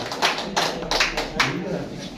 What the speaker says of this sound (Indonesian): Bapak Ibu bisa kasih tepuk tangan sedikit ya?